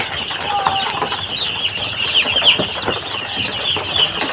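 Chickens clucking nearby on a farm, a continuous busy texture of short clucks and chirps layered over steady background noise, with occasional faint wing flaps, no talk.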